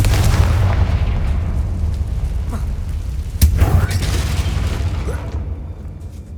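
A Confringo spell blast in Hogwarts Legacy goes off as a sharp, loud explosive boom midway, over a heavy rumbling low background, with a voice calling out the spell.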